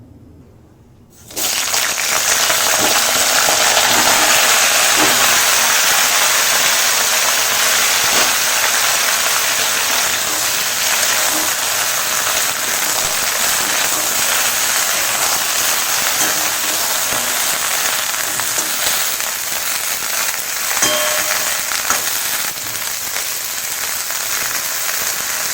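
Cauliflower pieces frying in hot oil in a pan, a loud steady sizzle that starts abruptly and holds at an even level throughout, with no one speaking.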